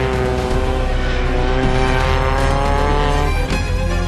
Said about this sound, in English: the Porsche 924 of Tomasz Staniszewski, currently in the top 10 overall